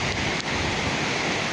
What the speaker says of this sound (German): Eine ganz schöne Strömung, die hier abgeht.